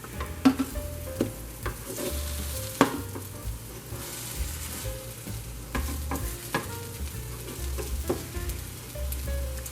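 French toast made from homemade casserole bread frying in a pan, a soft steady sizzle broken by occasional clinks and scrapes of a utensil, close and quiet with no talking.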